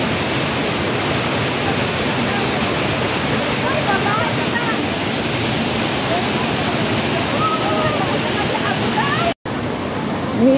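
A scenic waterfall roars steadily in a broad, unbroken wash of falling water, close and loud throughout, with faint voices barely audible beneath it and a brief dropout near the end.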